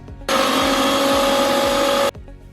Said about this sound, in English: Add all the oats and the tomatoes in the blender and blitz them together